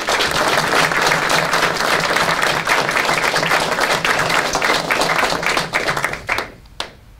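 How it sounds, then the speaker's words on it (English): Loud, sustained applause from an indoor audience at a Saskatchewan government funding announcement, dense clapping that holds steady for several seconds before thinning out to a few last claps. "So Greg, you deserve a round of applause."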